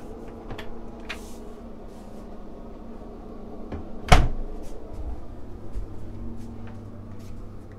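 A door panel on a Grand Soleil 72 sailing yacht opens onto the engine room and genset, giving one sharp knock or latch clunk amid faint interior rustling and small handling noises.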